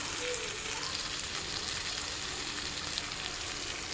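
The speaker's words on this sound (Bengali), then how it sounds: "লঙ্কা গুঁড়ো ভালো করে ভেজে নেব" Chili powder, salt and turmeric fry in a pan for a fish curry, a steady broadband sizzle that runs continuously at close range with no pauses.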